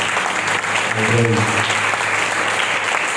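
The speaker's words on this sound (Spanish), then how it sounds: "Dale ese aplauso." A church congregation breaks into loud, sustained applause during a Spanish-language worship service, a dense steady roar of clapping under which one voice briefly speaks.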